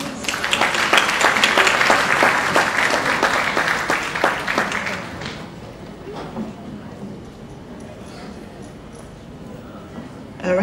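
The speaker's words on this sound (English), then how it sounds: "Give us a round of applause." Audience applause at a Sumfest reggae awards presentation, dense crowd clapping for about five seconds that thins into scattered claps and crowd murmur.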